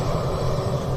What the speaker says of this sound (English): If you can hear in the background some noise going on of engines starting, then I think that is the Egyptian Antonov An-74